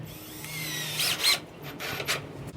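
A power drill drives screws into pallet wood boards for a raised garden bed, giving two short whirring bursts with a brief pause between, close and clear against a quiet background with no talking.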